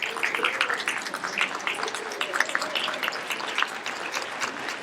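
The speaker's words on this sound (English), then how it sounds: "That's right, keep clapping." An audience at a school district's teacher and employee of the year award ceremony gives sustained applause, a dense patter of many hands clapping at moderate volume throughout.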